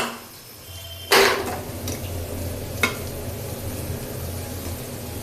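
Turmeric biryani fries in a pan with a steady low sizzle, broken by two sharp scrapes of a spoon stirring against the metal, close and fairly quiet, with no voices.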